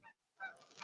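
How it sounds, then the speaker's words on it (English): Geese honking as they fly overhead, faint and distant: a short honk, a brief pause, then a longer stretch of overlapping nasal calls. "Can you hear the geese flying over me?"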